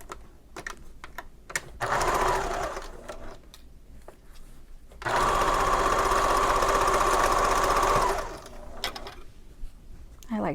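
A sewing machine stitches fabric for a marble necklace in two close bursts: a short run, then a longer steady whirring run of about three seconds, with quiet handling noises between.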